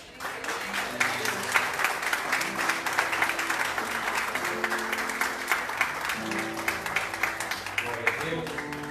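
A church congregation applauds during a worship service, steady dense clapping filling the room with music and voices underneath.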